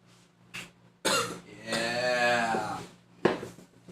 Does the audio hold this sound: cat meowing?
no